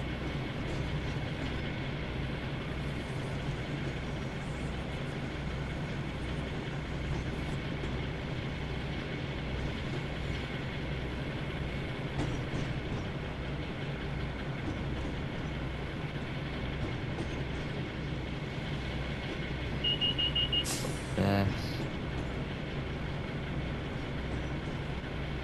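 In the Train Sim World 2 simulation of the West Somerset Railway, a train rolls along the rails with a steady, continuous rumble. Near the end, a brief high tone rises above it.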